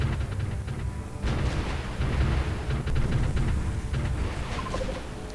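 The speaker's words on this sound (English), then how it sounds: "and deal with an annoying artillery" Artillery fire in the strategy game Supreme Ruler 2020, a deep rumbling barrage of muffled booms that rolls on steadily with a few sharper bursts.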